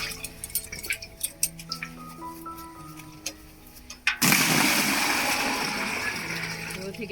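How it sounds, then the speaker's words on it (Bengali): Water hauled up from a village well in the rainy season, with scattered clinks and thin tonal sounds first, then a sudden loud, sustained rushing splash as the water pours out. "কুয়ো থেকে জল তুলে নিলাম"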